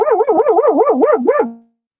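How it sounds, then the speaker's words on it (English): A dog vocalizing up close and loud, a continuous string of rapid, wavering barks and yips that rise and fall in pitch for over a second before trailing off, with no voices. "It's a dog barking."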